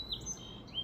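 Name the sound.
song sparrow singing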